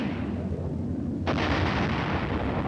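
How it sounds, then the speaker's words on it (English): Military artillery fire and explosions in Korea: a continuous low rumble of distant blasts, with one sharper burst adding a bright crack before the heavy roar carries on. "it is crazy just seeing explosions, like military explosions"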